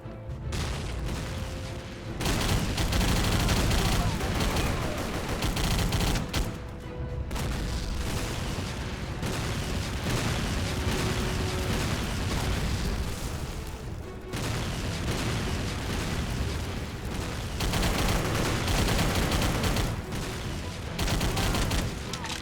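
Sustained gunfire and grenade blasts from a first-person shooter video game roar almost nonstop, dense and loud, with short dips between bursts.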